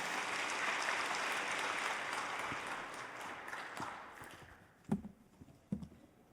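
Applause from a church congregation welcoming a member to the front, a dense steady patter of clapping that thins and fades out, followed by a few isolated taps and thumps.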